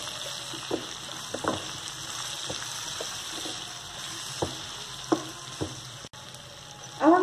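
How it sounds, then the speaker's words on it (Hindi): Chopped tomato with salt and red chili powder cooking in a pan, a low frying sizzle with scattered spoon taps and stirring clinks, close and quiet, with no talk. "कटा हुआ टमाटर, 1/2 टीस्पून लाल मिर्च पाउडर, और इन सभी चीज़ों को अच्छी तरह से मिक्स कर लेंगे।"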